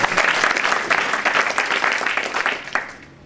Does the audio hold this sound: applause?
yes